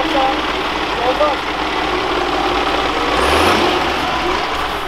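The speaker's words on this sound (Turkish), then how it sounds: "Aha Unimog geliyor, bizim araba." A Mercedes Unimog off-road truck engine rumbles steadily as the truck approaches on rough terrain, swelling slightly louder toward the end, with people talking over it.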